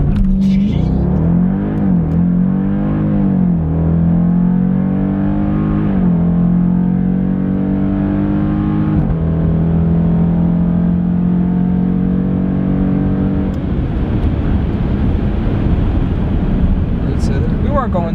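A 2018 Dodge Durango SRT accelerates hard on a quarter-mile run, its engine note rising in pitch through several gear shifts, loud and close inside the cabin.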